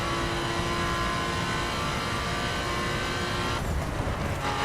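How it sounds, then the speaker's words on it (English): Xfinity-branded Porsche race cars roar continuously in The Crew racing game, a steady loud engine drone that shifts and dips briefly near the end, with no talk. "It's just a race in Xfinity branded rough Porsches."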